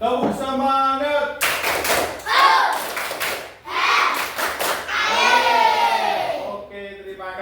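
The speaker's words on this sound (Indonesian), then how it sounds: "Ini tadi sudah melakukan tepuk semangat." A school class performs a rhythmic clapping chant, bursts of sharp group claps in set patterns alternating with children's voices chanting and shouting together, led by an adult voice at the start and end.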